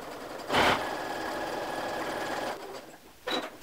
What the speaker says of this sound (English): put the fabric in your machine, line it up so your needle is going to fall directly into that ditch, and then you would go ahead and stitch